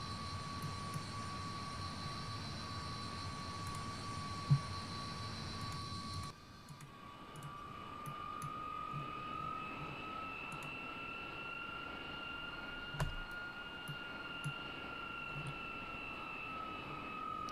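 Jet engines of a vintage Comet airliner in Microsoft Flight Simulator X, parked at Heraklion, give a steady, close drone with a high whine that steps down about six seconds in and then holds, with no talking.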